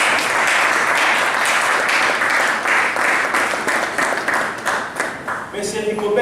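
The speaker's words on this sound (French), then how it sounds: "on peut l'applaudir aussi" A crowd applauds as officials are introduced at a Kinshasa gathering, steady sustained clapping that carries on loudly before a voice starts speaking at the end.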